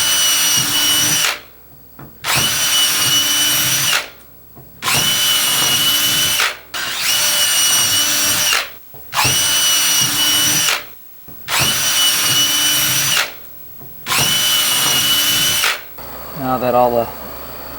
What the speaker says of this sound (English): we can go and finish drilling out the rest of the holes